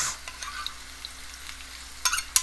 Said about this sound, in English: I'm going to add the ginger garlic paste, which is approximately about 2 teaspoons